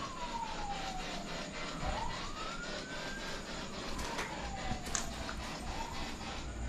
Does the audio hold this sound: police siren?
yes